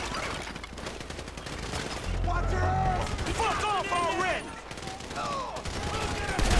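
Bursts of gunfire, including a sniper, crackle in the background of GTA 5 beneath a voice and other in-game sounds, loud and busy throughout.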